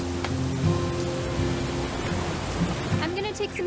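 Steady rain falls in the video game What Remains of Edith Finch, a continuous hiss heard under faint tonal sounds and low rumbles across the whole stretch.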